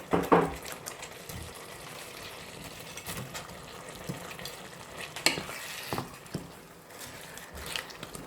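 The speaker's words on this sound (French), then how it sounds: "Je fais revenir un petit peu avant d'ajouter l'eau" Squid rings sautéing in a paella pan with a soft, steady sizzle, broken by a few scraping stirs and clinks of a utensil against the metal, close and moderately quiet, with no talk.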